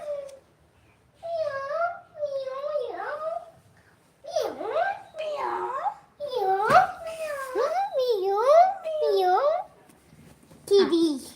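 A young child imitating a cat's meow, repeating a string of high, wavering mew-like cries in short bursts separated by pauses, close and clear against a quiet room.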